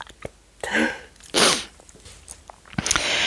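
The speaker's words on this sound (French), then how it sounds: "J'éternue, excusez-moi." A single sharp sneeze bursts out mid-clip, close and loud, set among softer breathy sounds and small mouth noises from someone speaking French in a quiet room.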